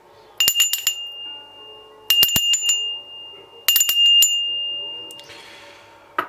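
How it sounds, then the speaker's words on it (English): A bright bell rings three times, each a quick cluster of metallic strikes followed by a clear ringing tone, with short pauses between. "Okay, I'm going to ring the bell 3 times"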